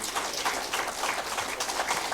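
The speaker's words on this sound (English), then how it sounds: "Ladies and gentlemen, a big round of applause for our friends from National Association for Blind." Audience applause welcoming students from the National Association for Blind at an International Day of Persons with Disabilities event, a dense, steady wash of many hands clapping for about two seconds, fairly close and full.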